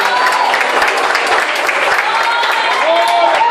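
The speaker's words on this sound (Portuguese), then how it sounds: "Todos podem aplaudir e glorificar e exaltar o nome de Jesus" Loud, sustained applause from a church congregation during a worship service, thick continuous clapping mixed with raised voices and cheers throughout.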